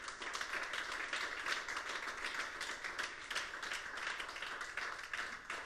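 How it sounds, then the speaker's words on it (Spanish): Dense clapping from a church congregation at home, continuous and even throughout, fairly faint and slightly muffled. "Un aplauso aquí en casa para el Rey,"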